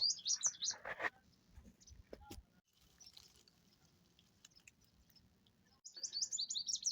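Rapid, high-pitched chirping calls from a baya weaver come in short bursts at the start and again at the end, with a quiet stretch between.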